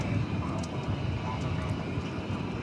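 At DFW airport on a warm day, an aircraft engine drones in a steady, broad roar at moderate distance, continuous and unbroken, with faint higher hiss on top.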